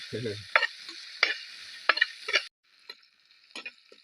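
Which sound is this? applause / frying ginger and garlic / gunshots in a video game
frying ginger and garlic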